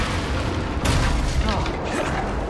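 A Confringo spell blast in the video game Hogwarts Legacy: a loud, broadband explosive burst erupts about a second in, its rumble dying down beneath game music and ambience.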